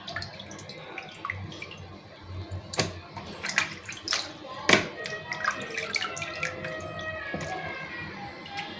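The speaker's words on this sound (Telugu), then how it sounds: "ఇట్లా మంచిగా నీట్గా నీళ్ళు తేటగా వచ్చేంత వరకు కడగాలి" Fish being washed under running tap water in a sink, with a steady close splash of flowing water and occasional sharp clatters and knocks as the fish is handled, no talk.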